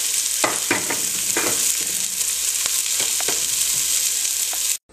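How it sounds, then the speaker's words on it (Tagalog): Garlic, onion, shrimp and cabbage sauté in a hot pan for pancit luglog, giving a steady close sizzle with scraping stir strokes throughout, cutting off at the end. "Okay, nag-igisa ako ng bawang at sibuyas. Sunod natin yung repolyo."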